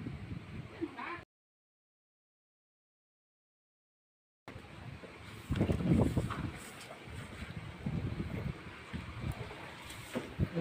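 Typhoon wind buffets the microphone in low rumbling gusts, cut by a few seconds of total silence, then returns stronger and steady.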